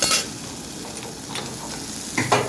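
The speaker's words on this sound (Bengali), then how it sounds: "পাঁচ ফোড়ন দিয়ে দিলাম, পেঁয়াজ আর মির্চি দিয়ে, ঠিক আছে, হালকা হালকা ফ্রাই করে নেবো" Onion and green chili frying gently in hot oil with panch phoron, a soft steady sizzle with a few light stirring clinks near the start and end.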